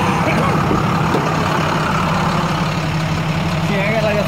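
A used truck's engine, rough-sounding compared with another truck, idles steadily close by with a continuous low, heavy rumble and chugging throughout.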